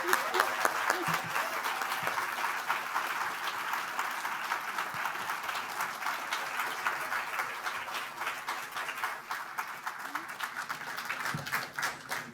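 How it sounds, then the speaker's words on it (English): Steady applause from a conference audience greeting a keynote speaker, dense even clapping that fills the room at moderate distance and holds without a break. "Let's give a warm round of applause to Hafeezah Muhammad."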